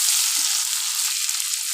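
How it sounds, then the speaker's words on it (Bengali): Eggs frying in a pan for egg curry produce a loud, steady, bright hiss and crackle of hot oil, close and continuous with no voices. "ভাজবো"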